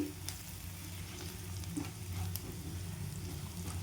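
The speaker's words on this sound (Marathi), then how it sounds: "चवीपुरतं आणि लाल तिखट छान परतून घेते आता मी" Kantoli, a wild monsoon vegetable, sautéed in a pan with onion, garlic, salt and red chili powder, a quiet, steady sizzle with a few soft stirring clicks and scrapes, close by and without talk.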